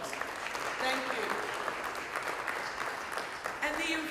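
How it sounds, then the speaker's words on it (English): An audience claps at a public safety plan event in Philadelphia. The applause is moderate and fairly distant, and talking runs over it. "Please give him a round of applause."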